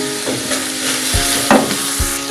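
Cabbage and vegetables stir-fry in a pan for Pakistani chicken macaroni, a loud close sizzle broken by a few sharp spatula scrapes and knocks, no one talking.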